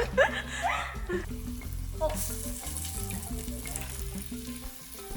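Banana pieces fry in hot oil for a Korean student's homemade roti, sizzling steadily and close, while people chatter and laugh over the crackle.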